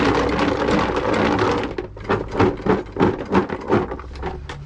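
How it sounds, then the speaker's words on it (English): Boilies coated in plum berry liquid, shaken in a container during carp bait prep: a steady wet rattling and clattering comes first, then breaks into rhythmic sloshing shakes, loud and close. "Excuse the noise as I shake this."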